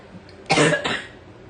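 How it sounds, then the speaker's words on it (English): A single sharp cough, up close and fairly loud, breaking into two quick bursts before quiet returns. "as soon as I get excited, I start coughing"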